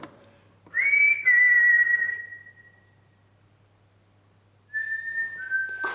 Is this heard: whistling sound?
yes